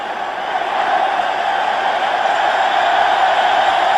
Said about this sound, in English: listen to the applause for Bell and for England